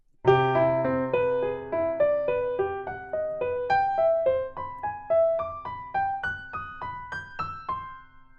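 A slow, evenly spaced run of single piano notes climbing through broken chords over two octaves, each note ringing clearly, played alone without voices.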